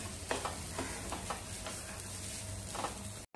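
Grated fresh coconut being stirred and fried in a pan, with a steady soft sizzle and repeated scraping strokes of the spoon at an even pace, close and fairly quiet.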